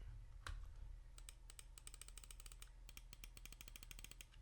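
Left and right button clicks on a VGN Dragonfly F1 Pro gaming mouse fitted with KL 8.0 switches, a rapid run of sharp, close, quiet clicks in an irregular rhythm over a low background hum, with no talking.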